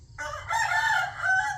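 A rooster crows at a rural village home, one loud, near, drawn-out call that rises and holds for over a second, with no voices over it.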